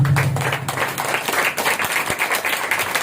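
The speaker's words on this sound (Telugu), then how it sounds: "కొట్ట చప్పట్ల కూడా" A congregation claps steadily through a Sunday worship service at a church in Nellore, a dense, continuous patter of many hands at even loudness, with a low hum at the very start.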